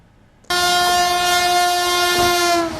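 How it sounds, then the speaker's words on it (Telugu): A Vande Bharat sleeper train on a trial run blasts its horn, a loud sustained tone lasting over two seconds that bursts in abruptly from near-silence over the steady rumble of the train moving at speed. "వందే భారత్ స్లీపర్ ట్రైన్ అత్యంత వేగంతో పట్టాలపై పరుగులు పెట్టబోతోంది."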